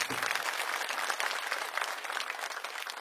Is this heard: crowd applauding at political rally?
yes